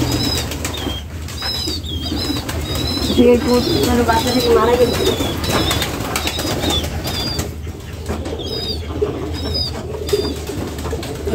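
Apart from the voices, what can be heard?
pigeons cooing and flapping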